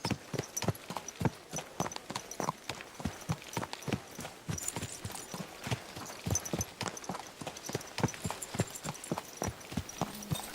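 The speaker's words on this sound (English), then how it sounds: "I got to stop fast traveling and actually ride my horse" Horse hooves clip-clop at a steady walking rhythm as the rider travels in the medieval video game Kingdom Come: Deliverance II, with many close, even hoofbeats continuing for about ten seconds.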